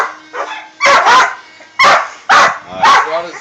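A wet dog barks in several sharp, loud bursts close by, spaced irregularly with brief pauses between them, heard outdoors near a small hydroplane boat.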